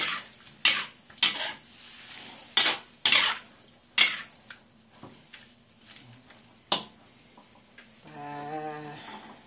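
Spoon scraping and clanking against a pan as food is stirred after a splash of soy sauce and wine, sharp irregular clinks loud and close, with a brief ringing tone near the end.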